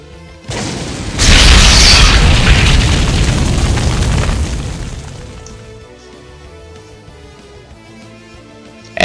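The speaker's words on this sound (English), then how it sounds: "the grand artillery fired, covering the hospital and its surroundings in flames" A huge artillery blast sets a hospital and its surroundings ablaze in the visual novel Dies irae. A sudden deep boom is followed by a long roaring rumble that slowly fades, with no voices present.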